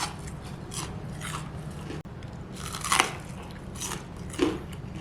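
Crunchy fried chicken with a cornstarch and potato starch coating is bitten twice up close, each bite a sharp brittle crunch followed by quieter chewing.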